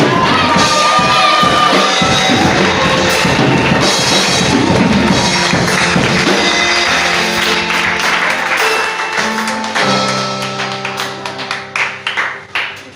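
A church congregation cheers and shouts loudly during a service, with a dense wash of voices and clapping that thins out toward the end into scattered claps.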